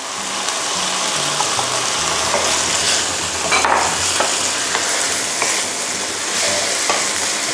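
Squid, fresh shrimp and coconut milk stirred while frying in a pan for pink rice noodles, a continuous loud sizzle and bubbling with repeated spoon scrapes against the pan, close up.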